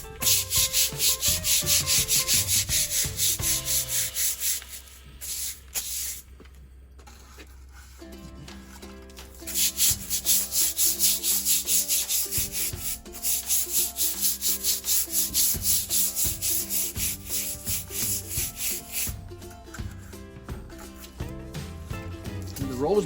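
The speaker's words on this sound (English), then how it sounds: "Just going to scrub it in and see what happens" Patio stones are scrubbed with cleaner in rapid, rasping back-and-forth strokes, loud and close, broken by a pause before the scrubbing resumes in steady bursts.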